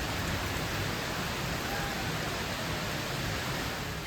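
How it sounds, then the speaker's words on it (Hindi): Heavy monsoon-style rain pours down in Thailand among tropical plants, a dense, constant roar of drops hitting surfaces that stays loud and unbroken throughout. "भगवान जी ने वहाँ थाईलैंड में भी बहुत सी बारिश दी"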